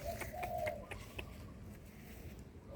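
Soft, low cooing of pigeons or doves nearby, a few repeated calls in the opening second, then quieter outdoor background.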